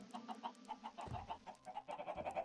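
Chickens on a small farm in the video game Chook World cluck and chirp in quick, uneven bursts, close and fairly soft, with a low bass tone underneath.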